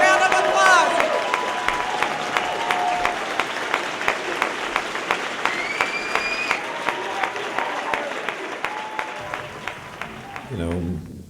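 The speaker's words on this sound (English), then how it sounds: "Give Bobby Seale a round of applause." A lecture-series audience applauds Bobby Seale with sustained, even clapping throughout. A voice speaks at the start, and brief cheers and whistles rise above the clapping.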